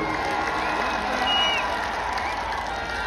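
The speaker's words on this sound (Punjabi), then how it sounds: "ਜ਼ੋਰਦਾਰ ਤਾੜੀ ਇਹਨਾਂ ਵੀਰਾਂ ਦੀ" A crowd at a Babbu Maan live show in Muthada Kalan claps and cheers. The applause forms a steady, dense wash, with voices mixed in throughout.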